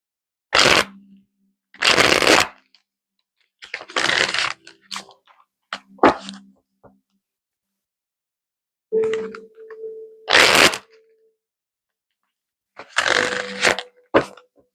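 Several bursts of tarot cards being riffled and shuffled, each a quick crisp flutter, separated by short pauses in an otherwise quiet room.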